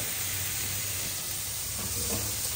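Grated vegetables sizzle and fry in hot oil with mustard seeds, a steady close hiss with faint stirring scrapes throughout and no voices.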